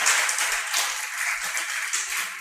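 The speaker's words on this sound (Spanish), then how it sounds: "Démosle un aplauso a Dios por el pastor Aldemar." Church congregation clapping together, a dense, even burst of applause sustained for a couple of seconds in a large room, without voices on top.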